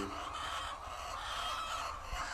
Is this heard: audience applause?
no